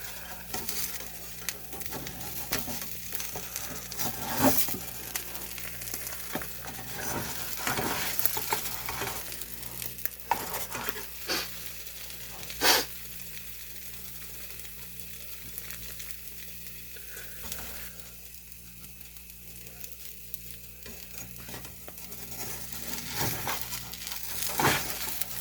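A quesadilla browning in a frying pan, a soft continuous sizzle with scattered clicks and scrapes of a spatula through a long stretch, fairly faint and close, no voices.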